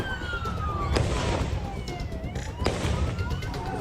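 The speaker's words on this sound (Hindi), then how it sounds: "दोनों अंधाधुंध फायरिंग करते दिख रहे हैं।" Gunfire during the Bondi Beach attack, with two sharp loud cracks spaced a couple of seconds apart echoing over a distant wailing siren and a constant noisy outdoor background.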